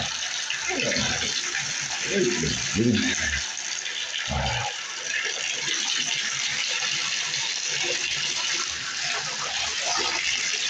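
Water splashing and gurgling in a bathtub with a plumbing leak, a continuous rushing wash with intermittent sloshes, heard fairly close while someone talks over it at times.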